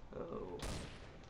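Sniper rifle fires in Counter-Strike Source, a single loud sharp shot with a short echoing tail, mixed over other game sounds and a voice talking.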